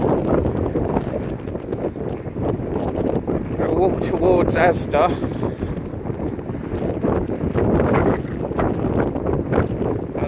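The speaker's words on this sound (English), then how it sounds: "Right, so it's very windy today." Strong wind buffets the microphone outdoors on a walk through the Crumbles in Eastbourne, a steady loud rumble running throughout under a man's speech.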